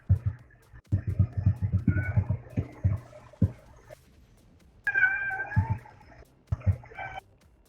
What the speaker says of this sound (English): Do I hear kitty?